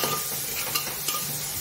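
Leftover cooked rice being stirred into fresh hot tempering in a pan, a steady close scraping and stirring with a soft sizzle underneath, continuous with no talk.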